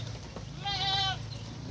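A single wavering goat bleat lasting about half a second, heard close over the steady hiss of falling rain on a farm.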